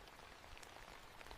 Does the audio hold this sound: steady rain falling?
yes